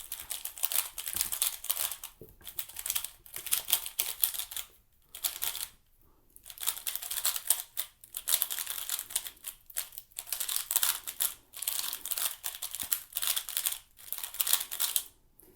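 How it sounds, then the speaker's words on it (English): Crisp, rapid clicking and crinkly turning of a Valk 3 magnetic speed cube, played close and alone in quick bursts broken by brief pauses. "The turning of the Volk is exactly how I'd expect it. The turning is really crispy."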